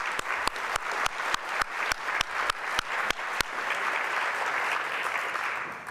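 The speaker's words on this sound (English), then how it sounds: "we'll give them a round of applause" An audience at the Thursday Luncheon Group 45th Anniversary Gala breaks into applause: a series of sharp, separate claps builds into a steady, full round of clapping that carries on to the end.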